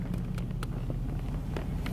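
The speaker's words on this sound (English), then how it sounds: "Big, loud engine." A massive truck on massive tires idles nearby with a big, loud engine, giving a steady low rumble with some wind buffeting across the microphone.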